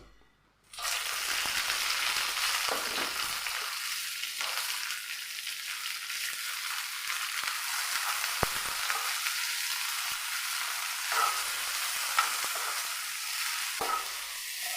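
Tomato, onion, green chilies, garlic and ginger sautéing in two tablespoons of coconut oil, a loud steady sizzle starting abruptly, with occasional scrapes and taps from stirring against the pan.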